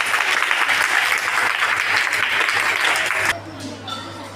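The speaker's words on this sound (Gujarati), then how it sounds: "જોરદાર તાળીઓ થઈ જાય ભાઈ" Primary school students at a school fair clap together in a loud, dense burst of applause that lasts about three seconds and then quickly fades.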